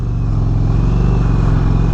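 A 2022 Indian Roadmaster Dark Horse motorcycle in sport mode pulls hard, its loud, close engine drone steady with a rich harmonic growl throughout, no voices over it.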